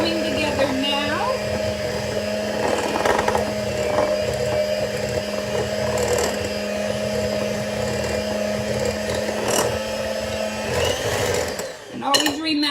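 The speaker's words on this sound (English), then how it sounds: "you want to scrape the sides down, either using the mixer itself or using a spatula, and we're just gonna blend it a little more" An electric mixer whirs steadily while blending buckeye dough, a constant motor hum with a rattling bowl, running under a voice before cutting off near the end.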